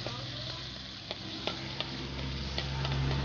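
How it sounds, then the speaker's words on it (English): Red curry paste sizzles in hot oil in a wok, a steady soft frying hiss broken by a few light clicks of stirring. "There goes the red curry paste added to hot oil in the wok."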